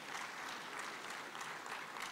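Audience at a tuberculosis and leprosy conference applauding panelists, a dense, steady round of clapping throughout, fairly distant and even.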